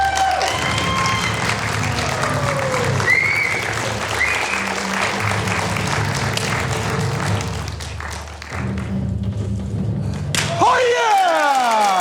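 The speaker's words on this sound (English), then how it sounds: "Give him a big round of applause" Audience applause on a television studio show after a sword-swallowing stunt, mixed with taps, thuds and music tones, dipping briefly before picking up again, with voices and other stage sounds heard throughout.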